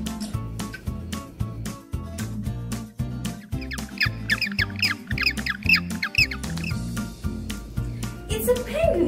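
Penguin calls for a children's zoo guessing game, a cluster of squawking chirps rising over a looping backing track with a steady beat.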